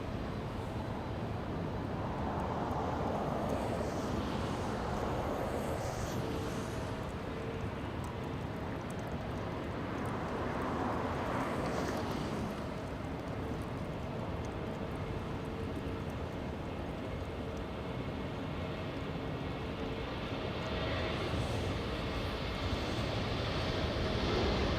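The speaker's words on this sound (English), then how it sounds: "We have the A350 1000 starting to taxi to the south side." A Qatar Airways Airbus A350-1000 taxis at Los Angeles airport, its jet engines producing a steady distant whine and rumble that swells gently and falls back over a long stretch, with no talking.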